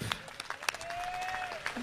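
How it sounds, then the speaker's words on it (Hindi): Audience clapping at a Hindi veer ras poetry recital by Dr. Hariom Panwar, a brief, moderate patter of hands with a faint tonal whistle running through it. "इतनी तालियों से नहीं होगी साहब"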